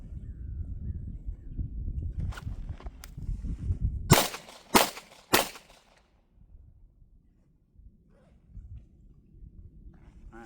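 Three sharp pistol shots from a Glock 19 Gen 4 firing 125 grain target ammo outdoors in the backcountry, close and loud in quick succession, following low wind rumble and a few faint clicks.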